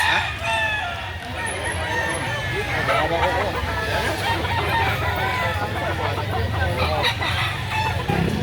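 An eight-month-old stag rooster crows amid a busy chicken market in Lipa, Batangas, where other fowl cluck and vehicles hum in the background while people talk nearby.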